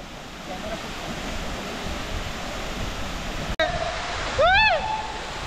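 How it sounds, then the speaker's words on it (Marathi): Nanemachi waterfall pours down in a steady, loud roar of rushing water, heard up close from beneath the falls. Near the end a brief whistled or squeaky tonal sound rises over the noise. "मस्तपैकी नाणेमाचीच्या धबधब्याच्या खाली आहे मी आता."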